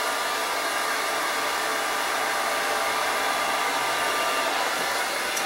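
A hair dryer set to low heat and low airflow blows a steady, close, even whoosh of air for the whole stretch, with no voices.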